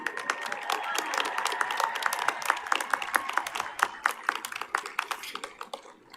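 Audience applause at a 2021 high school graduation ceremony, a thick burst of clapping that thins into scattered, separate claps toward the end, with some crowd noise underneath.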